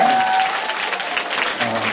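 A crowd at a fan meeting applauds with dense, steady clapping, brief and fairly close.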